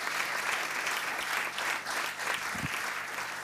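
Steady applause from an audience at a community sports solidarity event run by a chamber of commerce, a dense continuous clatter of many hands lasting throughout, with no voices over it.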